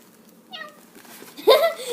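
A person imitates a cat with a short nasal meow, then a louder, sharper meow-like cry.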